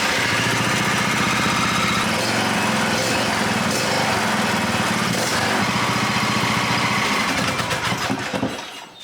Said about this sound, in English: Now that the service is finished, let's give it a start and see how it goes.